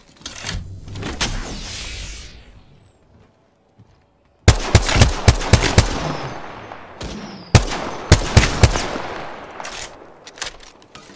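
Bursts of gunfire in the battle-royale shooter Apex Legends, sharp repeated shots in clustered volleys with a pause in the middle, loud and close, with no talk over them.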